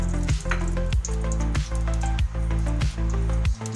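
Mustard seeds spluttering and popping in hot oil for tomato rasam, a steady close sizzle with repeated crackles running throughout, with music playing underneath.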